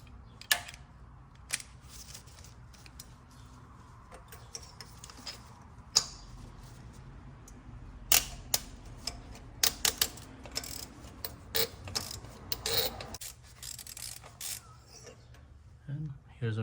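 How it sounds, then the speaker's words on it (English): A ratchet turning a 5/8 spark plug socket to remove spark plugs from a 2012-2017 Toyota Camry engine, giving irregular metallic clicks and ticks in short bursts with pauses, close up and fairly quiet. "To take off the spark plugs, I'm using this 5/8 spark plug socket."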